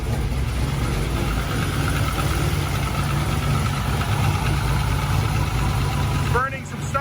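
LS-swapped Mazda Miata engine idling roughly just after its first start, a loud, steady low rumble close by that drops off near the end.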